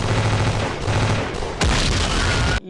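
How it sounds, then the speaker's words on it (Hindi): Rapid bursts of gunfire in a film shootout, a dense loud volley of overlapping shots that fills the whole clip, with a sharp booming blast near the end before it cuts off. "हम भी गोली चला रहे।"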